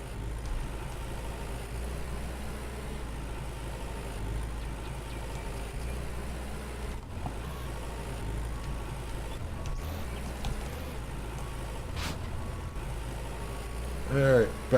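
A tractor on a farm in the game Farmer's Dynasty runs and reverses with a steady low engine drone, heard close, while someone talks over it.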